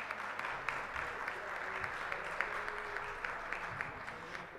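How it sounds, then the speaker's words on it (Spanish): Audience applause at a medical-technology seminar on health systems, a steady wash of many hands clapping that fills the whole stretch at even loudness, with a faint voice or two underneath. "Un aplauso a todos, por favor."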